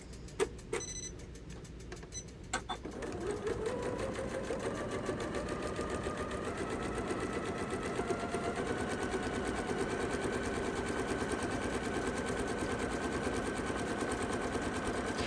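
A sewing machine stitches half square triangle quilt blocks, starting after a few light clicks and then running in a fast, steady mechanical chatter, close and moderately quiet.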